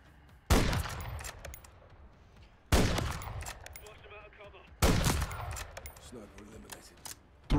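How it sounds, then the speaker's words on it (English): Three loud, sharp sniper rifle shots from the Call of Duty MW3 campaign ring out at roughly two-second intervals, each a sudden crack followed by a decaying echoing tail, with quieter game ambience and faint voices between them. "Three shots with a sniper."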